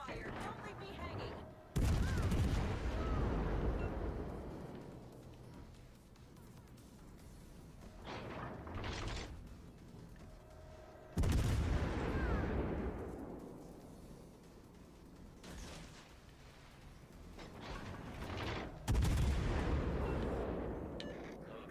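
Naval guns boom in World of Warships: Legends, with three heavy salvos spaced several seconds apart, each a loud blast that rumbles off into lighter crackling shots, while someone talks in between.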